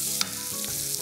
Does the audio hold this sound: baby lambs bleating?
no